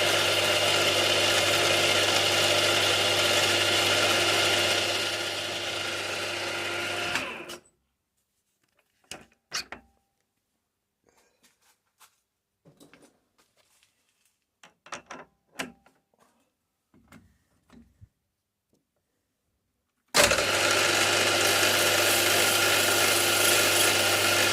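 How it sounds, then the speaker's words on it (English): A 1/8 inch drill bores a hole through brass for a model steam locomotive hinge and bracket, heard as scattered faint scraping and cutting bursts framed by loud, steady machine running at start and end. "so I'll go in with an 1/8 drill"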